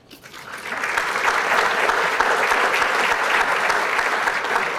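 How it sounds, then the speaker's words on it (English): An audience at a lecture bursts into applause that swells quickly and stays as dense, even clapping close by. "They deserve your applause."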